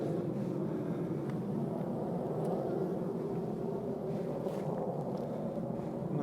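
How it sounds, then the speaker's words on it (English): A jet aircraft passes overhead during outdoor beekeeping work, a broad, steady distant rumble that stays level and fairly faint throughout. "Bit of jet flying overhead."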